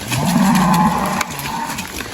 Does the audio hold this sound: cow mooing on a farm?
yes